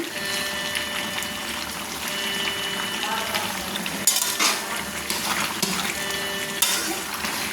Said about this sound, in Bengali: দেখুন মশলার সঙ্গে মটনটা কেমন হয়েছে, দেখুন আমি নাড়ছি।